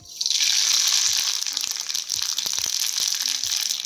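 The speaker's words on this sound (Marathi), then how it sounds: "चांगली मोहरी तडतड झाली" Mustard and cumin seeds crackle and pop in hot oil, a steady hiss with sharp, irregular snaps close by.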